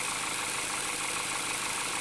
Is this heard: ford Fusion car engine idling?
yes